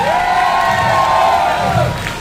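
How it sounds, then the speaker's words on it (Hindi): Audience at an app launch event cheering and clapping loudly, a sustained wash of crowd noise with whoops throughout. "मेटले और मेटमी के क्रिएटर्स के लिए जोरदार तालियां हो जाए"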